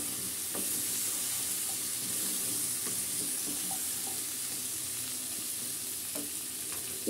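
Sliced potatoes and drumstick vegetable frying in a pan as they are stirred, a steady soft sizzle with faint scraping touches, fairly quiet and close.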